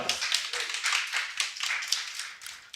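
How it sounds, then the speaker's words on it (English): A small audience claps at a real estate investing panel event, a dense patter of hand claps running steadily from start to finish, close and moderately loud with no voices over it. "Clap it up."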